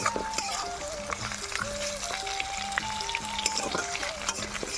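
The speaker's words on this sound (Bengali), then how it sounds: "ভেজে নেওয়ার পর তাতে দিয়ে দেব যে মাছের মাথা আর ধনে পাতা যে বিলাতি ধনে পাতা" A fish head and culantro leaves fry in a pan with a steady sizzle and occasional stirring clinks, while tonal background music plays throughout.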